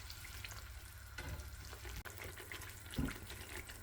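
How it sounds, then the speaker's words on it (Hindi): Water is poured into a pan of roasted semolina while cooking sweet halwa, giving a hissing, sizzling splash with some stirring, quiet and continuous with no talking. "अब हम इसमें पानी डाल देते हैं।"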